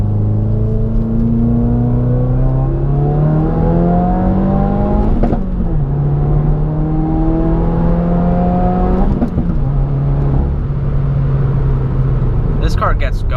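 A 2018 Subaru WRX with a stage 1 tune pulls hard through the gears, the engine note rising steadily with two brief dips at the shifts, recorded from inside the car.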